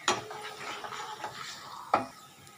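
Six cashews sautéing in a pan for prawns chilli, a soft sizzle broken by a few sharp clinks of a spoon against the pan, heard close with no talking.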